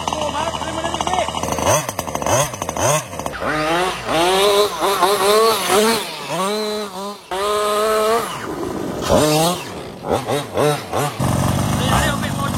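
A warmed-up engine is revved hard again and again, its loud, close pitch sweeping up and dropping back in a series of sharp bursts with brief idling gaps between them.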